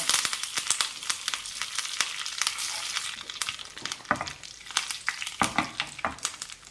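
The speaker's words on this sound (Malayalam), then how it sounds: "2 വറ്റൽമുളക് മുറിച്ചതും കുറച്ച് കറിവേപ്പിലയും കൂടെ ചേർക്കാം" Fenugreek seeds, broken dried red chillies and curry leaves frying in ghee for a tempering for ghee rasam, with a steady crackling sizzle and sharp pops and spits scattered throughout, close and fairly loud, no talk.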